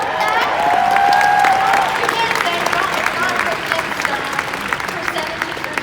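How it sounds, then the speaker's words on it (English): Audience clapping and light cheering at a Last of Us Part II game panel during PSX 2017, a moderate crowd applause with a voice over the start and scattered claps continuing. "Hey, we can clap for that!"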